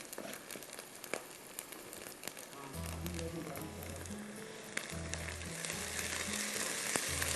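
Ginger garlic paste and onions fry in a karahi with a steady broadband sizzle, joined partway by a low rhythmic tonal hum, and the frying grows slightly louder toward the end.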